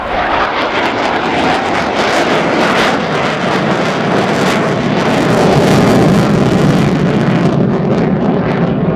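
A Ukrainian Air Force Su-27P1M Flanker jet flying a display at an air show, its engine roar loud and continuous with a rising and falling roar as it passes, buffeted by wind noise on the microphone.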